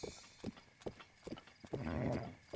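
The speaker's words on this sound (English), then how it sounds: "Can walk, canter, gallop, and spur the horse on." In the Zelda Breath of the Wild video game, a horse's hooves clop in a steady rhythm of separate thuds. A louder burst of rustling, snorting noise comes near the end.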